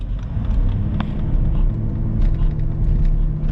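Low, steady rumble of an old OBS Ford truck's V8 idling and revving during a failed burnout attempt, a continuous engine drone without distinct rev peaks.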